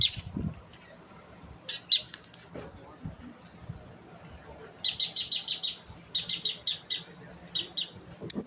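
Birds being fed at the Crab Shack on Tybee Island call in quick, shrill, chirping bursts, first sporadically and then in rapid repeated runs, fairly close, while people talk quietly in the background.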